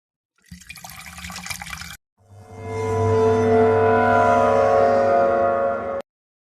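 Sulfur poured into a flask in the VRChem virtual reality chemistry game, a short crackling burst followed by a steady, loud rushing flow for about four seconds that stops abruptly.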